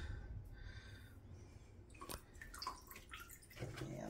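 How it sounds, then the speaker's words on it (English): Water sloshing and dripping in a tipped pan as a block of black floral foam finishes soaking, with soft close trickles and gurgles, quiet at first and busier in the second half. "I'm gonna just tip my pan of water here so it gets down at the end and this finishes soaking."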